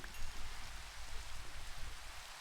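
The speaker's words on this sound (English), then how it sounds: "let's stop that rain now" Steady rain in Minecraft hisses evenly throughout, a soft continuous wash of falling drops at moderate level, no voices.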